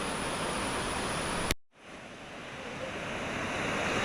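Loud, continuous rush of flowing water, briefly cut off before resuming as a steady broadband roar.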